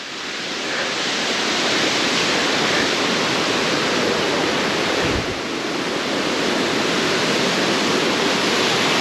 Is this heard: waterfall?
yes